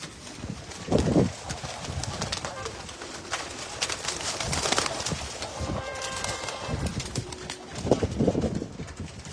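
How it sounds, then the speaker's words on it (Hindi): Faisalabadi pigeons on a Karachi rooftop coo and flutter, with bursts of wing flapping close by. Voices are heard talking in the background. "ये हमारे फैसलाबादी कबूतर है"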